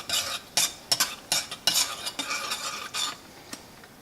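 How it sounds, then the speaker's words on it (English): A spoon scrapes and stirs through a smoked porter mash in a homebrew kettle over high heat, giving a series of close, uneven scraping strokes with brief pauses between them. "Continue to stir."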